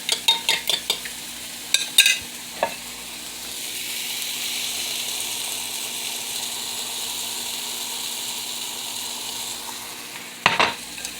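Eggs are poured into a hot pan for scrambled eggs with cilantro and other fillings. A few quick utensil clicks and scrapes give way to a steady, soft sizzle, with another clatter of stirring near the end.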